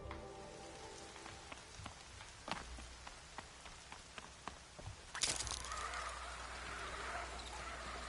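Rain falls steadily in Horizon Zero Dawn, a soft continuous patter with scattered sharper drops, and a louder burst of heavier rain or splashing near the end, with no talk over it.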